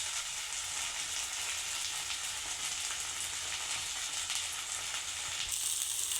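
Okra frying in a pan gives a continuous dense hiss and crackle, even and fairly close, with the sizzle brightening slightly near the end.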